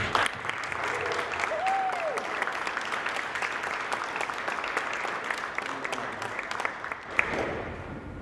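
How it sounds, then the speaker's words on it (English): Sustained applause from a crowd honours NJCAA Region 10 women's volleyball champions, a full, even clapping that carries on throughout with faint voices mixed in. "let's give yourself a round of applause"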